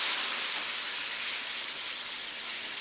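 Steady, loud hiss of coconut milk hitting a hot pan with cooked beef for Thai red curry, an even sizzle throughout with no voices.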